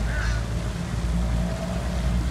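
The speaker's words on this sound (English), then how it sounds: "There's a couple ducks out there really talking to you." Ducks call from a park pond near a fountain, a few honking, goose-like squawks rising early over a steady wash of outdoor noise, then fading into the continuous background.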